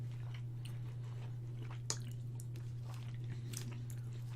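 Someone chewing a Big Turk chocolate-covered jelly bar close up, soft squishy wet chews and small clicks repeating irregularly over a quiet steady hum, with no talking.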